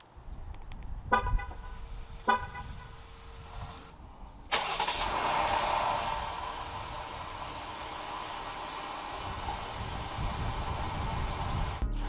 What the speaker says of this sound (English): But here's a cold start for you guys.